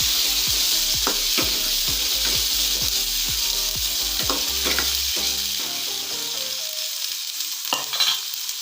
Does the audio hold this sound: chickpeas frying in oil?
yes